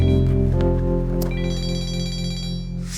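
A phone rings with an incoming call, loud and close, a steady electronic ringtone with sustained tonal notes that carries on for a few seconds with no talking over it.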